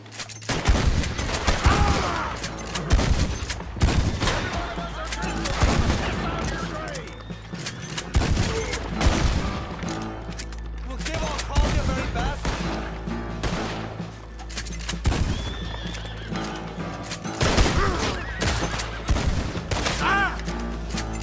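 A shootout on a bridge in Red Dead Redemption 2 erupts in dense, overlapping gunfire, with rapid volleys of shots cracking almost without pause. Loud game voices are mixed in among the shots.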